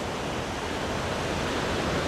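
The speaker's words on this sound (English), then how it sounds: "you can literally hear the waves crashing just behind me" Ocean surf crashing on a Cape Town beach below Table Mountain. A steady, loud, broad roar of breaking waves continues throughout with no talk.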